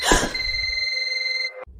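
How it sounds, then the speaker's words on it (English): A single sustained electronic telephone ring, bright and steady, cutting off abruptly after about a second and a half. "The phone rings."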